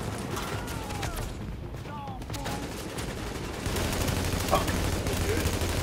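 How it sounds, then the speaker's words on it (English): Enemy gunfire in The Division, an urban third-person shooter: bursts of rapid shots and scattered cracks over a continuous battle din, with voices talking faintly underneath and the firing growing louder toward the end. "Oh, he's shooting again."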